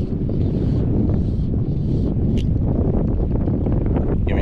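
Strong wind buffets the microphone on a fly fishing boat off Islamorada, Florida, a loud continuous low rumble with gusty swells throughout.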